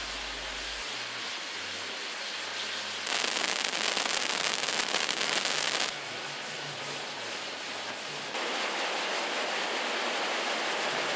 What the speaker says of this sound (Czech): barokní ohňostroj.